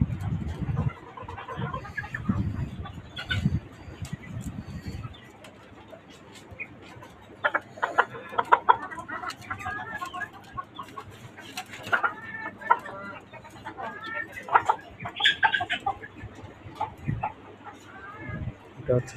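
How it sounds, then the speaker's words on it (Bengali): A white tiger breeder rooster kept in a rooftop cage clucks in short bursts near the microphone while someone talks over it and other chickens call in the background. "এই যে আমার একটা ব্রিডার মোরগ"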